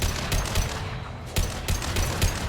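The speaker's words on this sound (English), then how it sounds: "The assault rifle almost seems a little underpowered compared to like the pistol." Assault rifle gunfire in the video game Mass Effect 2, several rapid bursts of shots with short pauses between them, loud and close, with no talking.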